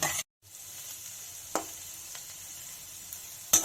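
Chopped onion hits hot oil with whole black mustard seeds, a steady close broadband sizzle after a brief gap, with a few faint clinks and a louder knock near the end.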